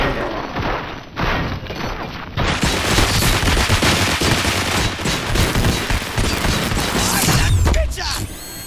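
Dense, sustained gunfire in RoboCop Rogue City, a near-continuous loud barrage of rapid shots and mechanical clatter with booming thuds. A burst of noise starts after a brief quieter lead-in, and shouted voices sit under the shooting.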